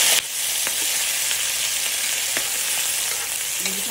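Shrimp sizzle steadily in a hot pan for buttered shrimp, a continuous loud frying hiss with a few faint clicks from stirring and no voices.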